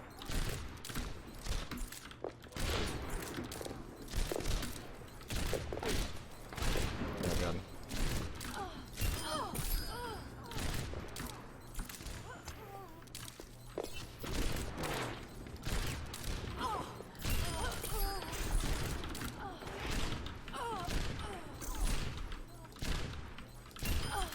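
Repeated gunshots and impacts from an Overwatch match with a sniper rifle in play, sharp cracks and thumps scattered throughout at moderate level over busy game noise, with someone talking intermittently.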